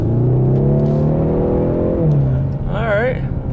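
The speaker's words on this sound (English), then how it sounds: "So I'm in the EcoBoost Mustang, let's give it some juice." A 2024 Ford Mustang EcoBoost's engine revs up under acceleration, a loud, rising drone heard from inside the car, with a brief voice near the end.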